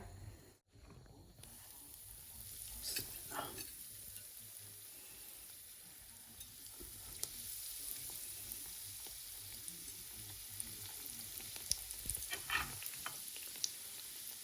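Bread samosas frying gently in oil over low heat, a soft continuous sizzle with occasional louder crackles and spatters, fairly quiet and without talk.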